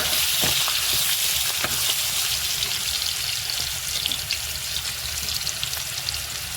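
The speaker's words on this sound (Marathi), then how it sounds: "बघू शकता कांदा टाकला आहे आणि याला आपण मिक्स करून घेऊया." Onion frying with garlic in a hot pan, a loud, steady close-up sizzle with occasional stirring knocks as it is mixed for a mutton and vegetable dish, no talk.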